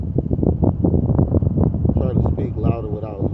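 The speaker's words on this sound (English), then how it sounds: "Hear me because of this wind." Wind blows steadily outdoors on a cold, windy day by the water while fishing, a constant rushing roar buffeting the microphone under continuous talking.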